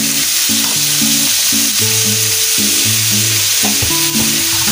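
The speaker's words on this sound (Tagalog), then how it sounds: "ilagay na po naman natin ang ating kalahating kilo na ground beef. Igisa po muna natin siya." Half a kilo of ground beef hits a pan of sautéed garlic and onion, sending up a loud, continuous frying sizzle with a rhythmic hum underneath, close and unbroken.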